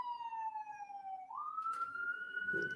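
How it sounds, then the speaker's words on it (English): An ambulance siren passes at a moderate distance, a clear tone sliding down and then swinging back up, fairly faint over quiet street background. "Oh, here comes the ambulance."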